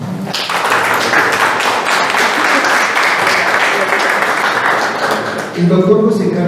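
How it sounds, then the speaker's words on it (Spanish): Audience at a book presentation breaking into a loud, dense round of applause that holds steady for about five seconds before fading, followed by a voice speaking. "Pido a todos los presentes brindar un fuerte aplauso."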